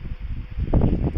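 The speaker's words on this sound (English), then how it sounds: "It's quite windy, sorry about that." Gusty wind buffets a camera microphone outdoors at night, a low rumbling roar that swells louder and rougher in the second half of the short stretch.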